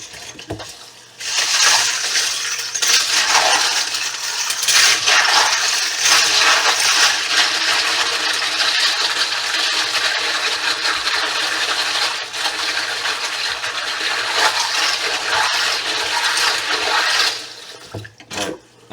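Water pours continuously over cartridge brass during a rinse to clear suds, vinegar and salt, a loud, steady rushing gush lasting many seconds with faint metallic clinks, then cutting off at the end.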